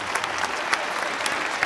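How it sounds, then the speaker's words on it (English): An audience at a talk with Richard Dawkins and Lawrence Krauss applauds, an even, sustained roar of many hands clapping with occasional louder individual claps, no break throughout. "I appreciate the applause"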